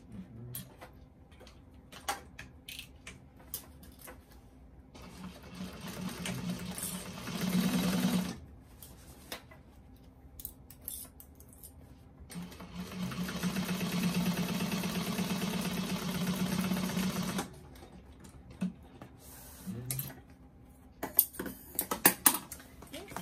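A sewing machine stitches closed a bag lining opening with a half-inch seam allowance, sounding in two bursts of steady whirring needle clatter separated by quiet pauses, with small handling clicks and taps around them, close by.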